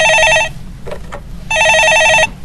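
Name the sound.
telephone ringing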